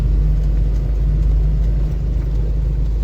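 A vehicle rolls along a road diverted by police around a traffic jam, its engine a steady close rumble with constant low drone throughout and no talk.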